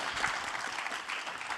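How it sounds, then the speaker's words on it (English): An audience at a leaders' forum gives a short burst of soft, distant applause, a brief wash of even clapping with no clear voices. "Okay, round of applause."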